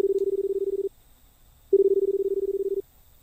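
Two steady telephone tones from a payphone, each about a second long with a pause between, clear and close with nothing else heard.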